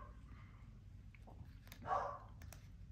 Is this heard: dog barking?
yes